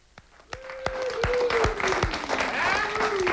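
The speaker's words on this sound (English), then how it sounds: "I'm not sure what we're clapping at" Audience applause swells after a few loud claps and continues steadily, with a voice talking over the clapping.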